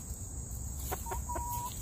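Backyard chickens near their coop and run make a few soft, brief clucks and chirps against a steady outdoor hiss.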